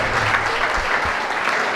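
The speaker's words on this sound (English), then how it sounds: "we really got to give a round of applause right now to everybody who's been in the building" A crowd at a cannabis dispensary ribbon cutting ceremony claps steadily, giving a full, sustained burst of many hands applauding close by.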